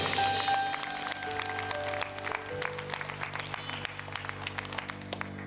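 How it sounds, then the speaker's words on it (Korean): A church congregation applauds during worship, steady moderate clapping over sustained organ or keyboard chords, with individual claps growing sharper and sparser as the applause continues. "주님 앞에 영광의 박수 올려드립니다"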